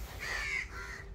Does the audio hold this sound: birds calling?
yes